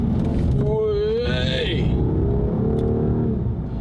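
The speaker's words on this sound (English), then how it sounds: "That's the only time you hear the engine, is when you put your foot hard down" A Rolls-Royce Wraith accelerating hard from a standstill at traffic lights, its engine rising in a deep, muffled rumble that swells and fades inside the cabin, with someone talking over it.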